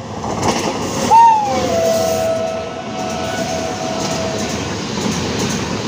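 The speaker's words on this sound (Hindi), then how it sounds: "इस वक्त ट्रेन भी एक आ रही है" A train approaches through coconut-palm country in Tamil Nadu, its horn sounding once in a long sustained tone over a steady, loud rolling rumble of rail noise.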